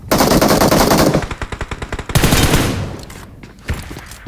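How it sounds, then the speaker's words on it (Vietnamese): Rapid automatic gunfire in a first-person shooter match, loud bursts of rattling shots up front, then a louder blast and scattered fainter single shots trailing off, with no speech. "Bên kia nó cũng bắn ạ."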